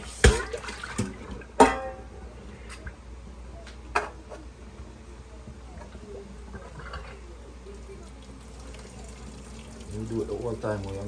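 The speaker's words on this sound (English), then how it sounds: "I'll rinse off the ackee." Ackee rinsed under a running kitchen tap, a steady low wash of water with a few sharp clunks near the start and a busier splashing toward the end.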